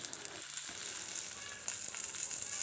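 Fish wrapped in banana leaf frying in a village-style pan gives a steady, close crackling sizzle with bright hiss, slightly louder toward the end, and no voices.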